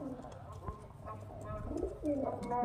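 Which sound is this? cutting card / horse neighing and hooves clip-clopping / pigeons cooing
pigeons cooing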